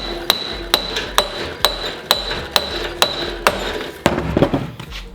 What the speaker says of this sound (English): So to get this back on, we should just have to smack it a couple times.